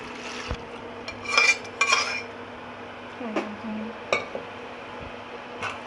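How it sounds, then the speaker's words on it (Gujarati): Boiled dal is tipped into spiced oil in a pot for Kathiyawadi Gujarati dal, giving close clinks of a spoon against the pot, a brief stir and a soft splash, with no talk. "હવે આપણે જે દાળ બોલ કરેલી છે તે આમાં નાખી દઈએ।"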